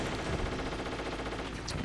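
Rapid gunfire and explosions from Stinger missile shots during a boss fight in the PC version of Metal Gear Solid, a dense, continuous barrage of loud game combat sounds with no speech.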